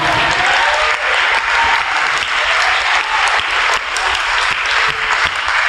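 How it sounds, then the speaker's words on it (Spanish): A church congregation claps together in sustained, dense applause throughout, loud and steady, with no voices clearly standing out. "Dale su ofrenda de palmas al Señor."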